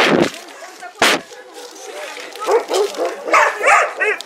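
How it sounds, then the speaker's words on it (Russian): A dog at an animal shelter barks and yips in short bursts, close and loud, with whimpering between the barks and people talking over it. "Кто тут так лает, а?"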